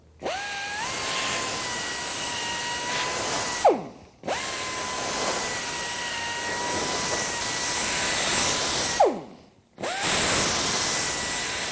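A power tool chamfers the edges of the cylinder bores on an engine block. It runs in three long, loud, steady whining passes, with brief pauses where the motor spins down and restarts.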